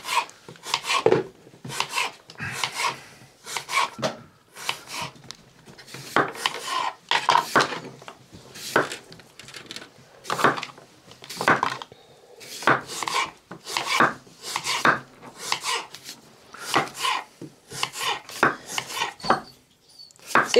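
Apples being cut into pieces with a knife on a board in a home kitchen, a steady run of close, crisp chopping strokes repeating for about twenty seconds with short pauses, no talking.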